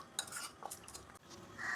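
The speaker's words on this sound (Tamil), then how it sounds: "இதெல்லாம் நம்ம நல்லா மிக்ஸ் பண்ணி எடுத்துக்கலாம்." Spoon and bowl clinks with soft stirring as dried fish is mixed with spices and curd in a bowl, a few close scrapes and taps over about two seconds, no voices.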